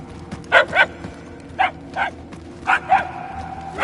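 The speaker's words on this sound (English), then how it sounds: "we're getting closer, right? The barks are getting louder" Dogs barking in the PS5 Marvel's Guardians of the Galaxy video game: six sharp barks in pairs at a moderate distance, over a low, steady game ambience with no talking.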